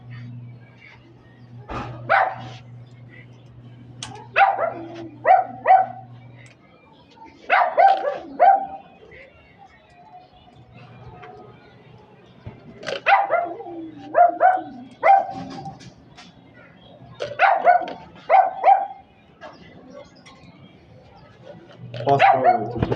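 A dog barks repeatedly in clusters of sharp, loud yips close by, with pauses between bursts and a low hum running underneath.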